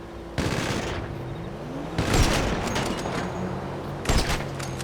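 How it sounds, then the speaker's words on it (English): Sniper rifle fire in GTA Online during the Cayo Perico heist: three separate loud sharp shots spaced about two seconds apart, each with a long rolling echo tail, no talk. "we're going to start popping the ones we can see off with a sniper"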